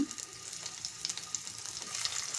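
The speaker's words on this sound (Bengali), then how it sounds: "তেল আগেই দেওয়া আছে এখন মাছটি দিব" Fish sizzles and spatters in hot oil in a pan, a continuous bright frying hiss with small pops and crackles, close and fairly even throughout.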